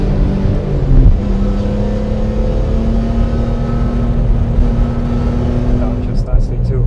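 A 2003 BMW M3 in sport throttle mode pulls with a steady, loud engine drone that holds a rising tone, heard from inside the car, ending with a brief shift-like dip.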